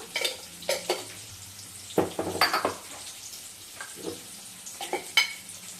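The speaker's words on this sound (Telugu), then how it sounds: "ఇక ఆనియన్స్ వేసుకొని మగ్గి మగ్గిన తర్వాత ఇందులోనే కొంచెం జీలకర్ర" Onions sauté in a pan with cumin, a frying sizzle under repeated stirring scrapes and utensil clinks that come in short bursts.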